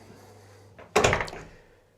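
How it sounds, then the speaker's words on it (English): A van door is pushed shut with a single solid slam, close and loud, its thud tailing off quickly into a quiet interior. "So, we shut the door."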